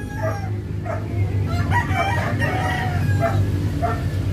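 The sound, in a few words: Sweater-line gamecock broodstag crowing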